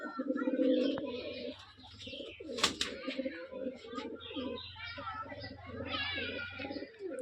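Male and female bazi pigeons coo close by in repeated soft, throaty bursts, with someone talking quietly between and over the calls.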